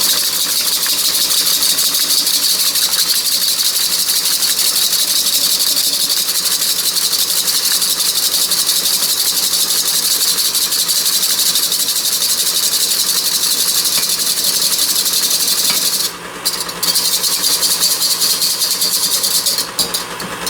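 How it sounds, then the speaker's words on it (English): An egg beaten with a whisk in a copper bowl, a fast, steady scraping rattle of strokes that is loud and close. It runs without a break for most of the time and stutters briefly near the end. "I'm going to take my egg and I'm going to give it a good beating in this bowl here"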